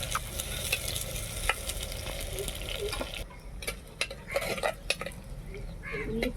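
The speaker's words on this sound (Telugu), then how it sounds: "ఉల్లిపాయ ముక్కలు బాగా ఫ్రై అవ్వాలి" Onion pieces fry for a fish curry with cumin and fenugreek, a loud continuous sizzle broken by repeated clinks and scrapes of a spoon against the pan.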